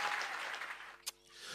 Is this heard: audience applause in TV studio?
yes